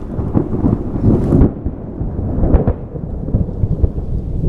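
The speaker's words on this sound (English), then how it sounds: "There's a lot of thunder." Loud thunder rumbles and cracks in rolling bursts during a storm over water while fishing from a boat, with rain in the background and no talking.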